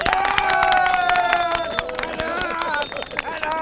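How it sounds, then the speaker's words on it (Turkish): A crowd at an outdoor political gathering in Turkey cheers and claps loudly for Recep Tayyip Erdoğan, with whistles and shouted voices rising over dense babble and clapping that stays strong throughout. "Recep Tayyip Erdoğan'ı destekleyenler bir alkışlayabilir"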